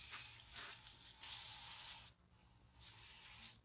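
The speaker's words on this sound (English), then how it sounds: "I'm going to be spraying it off with a water hose." Water hose spraying dirt off the roots of a strawberry plant being moved from soil into a hydroponic system, a steady hissing spray that swells, breaks off briefly, then resumes, close and alone.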